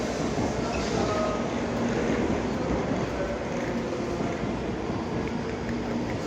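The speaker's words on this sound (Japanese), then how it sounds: "列車が到着しております。" Nozomi 186 Shinkansen bullet train pulling into Okayama Station, a loud, steady rumble and rush of air and wheels filling the platform continuously throughout, with no voices.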